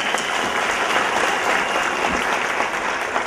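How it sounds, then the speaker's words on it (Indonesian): A seminar audience claps together in dense, continuous applause, loud and even throughout with no pauses and no speech over it. "Oke, tepuk tangan sekali lagi Anda."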